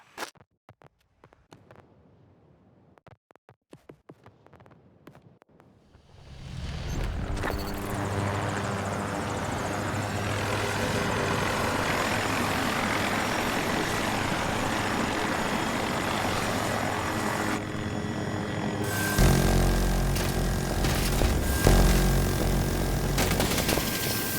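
Aircraft engine noise in an action video game, a loud steady helicopter-like drone that swells in after a few seconds of sparse quiet clicks and holds to the end, rising slightly near the close.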